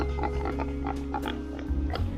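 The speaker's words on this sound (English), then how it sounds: "I had never touched a pig before, and I was very surprised at how thick and coarse their hair is." A pig on a farm in Hawaii grunts and oinks in a quick series of short, close, nasal snorts over a steady low background rumble.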